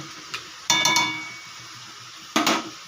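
A lid is set onto a pot of cabbage curry with fish head, giving a few close metallic clinks and a rattling knock, then a second clatter after a short pause.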